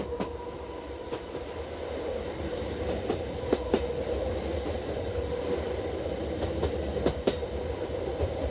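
A Rhaetian Railway train on the Arosa Line in Switzerland climbs a steep 1-in-16 mountain gradient at around 30 km/h, rumbling steadily with a heavy, continuous drone, broken by intermittent sharp clicks and clanks from the wheels.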